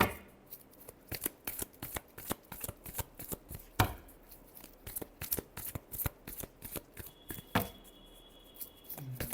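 Tarot cards are shuffled by hand in a steady run of quick crisp riffling slaps and flutters, close and fairly loud, with short pauses between bursts and no talking.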